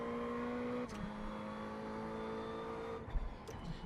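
A GT3 race car engine in the iRacing sim game at Lime Rock whines at high revs, a steady tonal drone that drops briefly with a gear change and climbs again.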